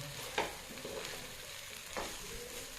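Mature breadfruit stir-fry being turned in a dry pan without water, a quiet low sizzle with a few spatula scrapes and knocks against the pan.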